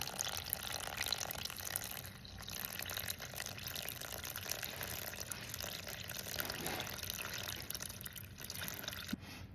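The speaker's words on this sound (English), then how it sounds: "And we're gonna do 325 grams of water." Warm water pours steadily from a tap into a bowl set on a kitchen scale while sourdough bread dough is being prepared, a continuous close splashing stream for about ten seconds with no talking.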